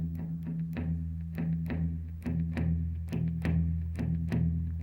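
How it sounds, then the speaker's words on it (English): Guitar playing a blues shuffle with a long-short swung feel, evenly repeating strummed or picked notes over a steady low bass line, played alone and clearly without talk. "And that's what we all recognize as a blues shuffle."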